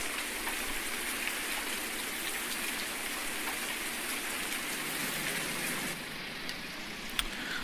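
Rain pours down in the farming game Farming Simulator 19, a steady hiss of falling water with faint patter, continuous and even with no speech.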